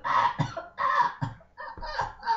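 A hen clucking in short, irregular bursts, close and moderately loud, with brief gaps between calls.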